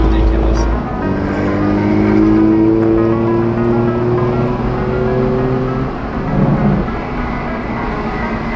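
An upgraded Toyota Supra turbo engine spools up in a steady, loud rising whine over a low idle rumble, climbing smoothly in pitch for several seconds.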